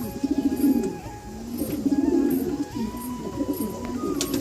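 Pigeons at a home loft, including a female, coo repeatedly in low rhythmic phrases, close and fairly loud, with faint higher chirps over steady background noise.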